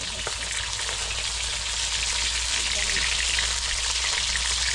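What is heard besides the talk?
parshe fish frying in oil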